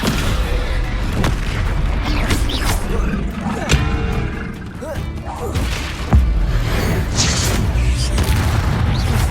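Confringo blasting spells in Hogwarts Legacy burst repeatedly in loud booming explosions and crashes, layered over constant combat noise with a voice speaking over the action.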